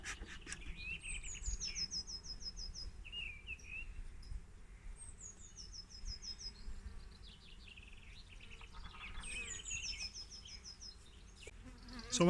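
Honey bees buzzing around an opened hive, a soft continuous drone of many wings, close and steady, with faint chirping birds in the background and no speech.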